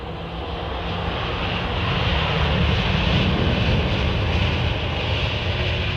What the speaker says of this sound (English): sounds like GE firing up those engines